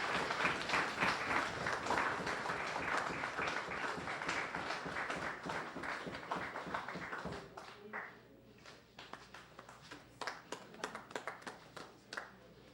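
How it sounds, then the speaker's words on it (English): An audience at the 25 Most Remarkable Teens award ceremony in St. Kitts and Nevis applauds, with dense sustained clapping in a hall that thins to scattered claps near the end. "Could we give him a round of applause?"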